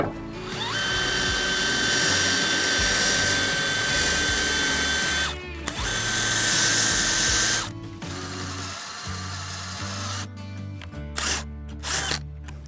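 A power drill runs loudly and steadily, boring a flat hole through deck wood, pauses briefly, runs again, then stops with a few mechanical clicks and clatter.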